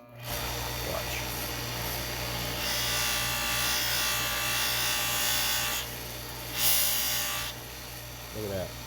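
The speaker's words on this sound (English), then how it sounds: "I'm gonna come over here to my buffing wheel" A buffing wheel spins against a die-cast Hot Wheels 1972 Chevrolet Vega GT, a steady close motor whine with a rising rubbing hiss as the metal is pressed in, swelling twice before easing off.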